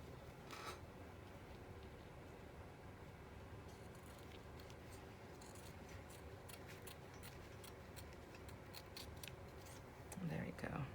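Scissors trimming a paper trifold ephemera piece, a run of short crisp snips, close and quiet, with soft rustling of paper and brief handling noise near the end.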